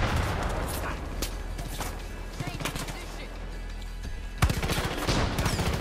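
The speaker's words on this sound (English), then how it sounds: "Who the hell is shooting mortars?" Heavy gunfire and mortar blasts in the video game Far Cry 5 crackle in dense, continuous bursts, with a loud sudden volley near the end.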